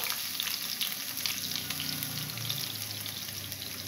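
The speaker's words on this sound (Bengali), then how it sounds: "এবার এখানে আমি 4-5 কোয়া রসুনকে আমি কেটে এবং লম্বা লম্বা করে কেটে আমি দিয়ে দিই। এটাকে দিয়ে একটু নেড়ে নেবো।" Sliced garlic sizzling in hot oil in a pan, a steady crackling fry with light stirring, with a soft musical bed underneath.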